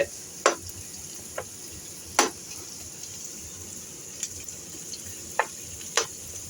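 Chicken curry masala sizzles in a pan while being stirred, a steady soft frying hiss broken by scattered sharp clicks and scrapes of the utensil against the pan.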